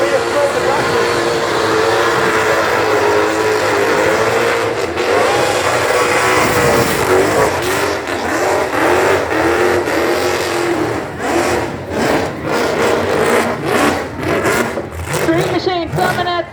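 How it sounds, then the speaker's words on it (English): A Holden Monaro does a burnout at the Summernats 34 street machine event, its engine revving hard and roaring continuously with rising and falling pulses while an announcer talks over it. "It's not gonna stop the burnout though."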